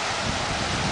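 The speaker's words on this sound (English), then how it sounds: "it's kind of windy" Wind on a warm, rainy Pacific Northwest day, a dense, steady broadband rush like gusting air buffeting the microphone, constant and fairly loud with no voices.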